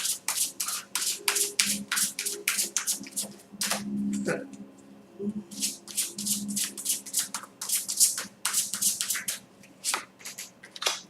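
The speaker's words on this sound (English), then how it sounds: "I'm just going to do them consecutively because these are really hard to shuffle" A stiff deck of tarot cards is shuffled over and over, each pass a crisp, rapid flurry of slapping card edges in close, loud bursts with brief pauses, over a faint low background.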